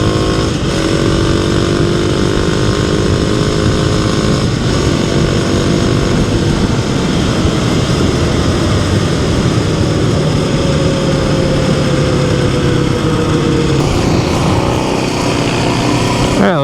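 A 2026 Kawasaki KLX300 dual sport motorcycle on dual sport tires cruises down a road, its single-cylinder engine droning loud and steady with rising and falling pitch and heavy wind rush, with a brief shift near the end.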